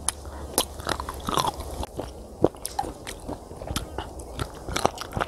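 Sea cucumber eaten fresh by the sea, with close, wet biting and squishy chewing in an irregular rhythm over about five seconds, broken by sharper crunches and a few soft vocal sounds.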